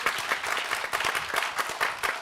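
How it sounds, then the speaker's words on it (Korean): Concert audience applauding two honored guests at a memorial concert for Cardinal Kim Sou-hwan, a moderately loud patter of many hands with uneven pulses and no talking. "큰 박수 한번 두 분께 쳐드리시고요."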